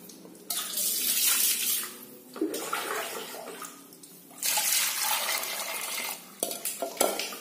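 Goat meat being washed under a running tap, broad rushing water with stirring and sloshing in bursts, close and fairly loud, with brief pauses between rinses.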